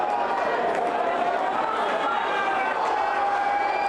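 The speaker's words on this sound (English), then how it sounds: "Big roar from the crowd." A big, sustained crowd roar at a greyhound race at the 2016 Scottish Derby final, loud and unbroken, with a race commentator talking over it.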